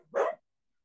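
A single short dog bark, fairly faint and muffled, heard alone with silence after it.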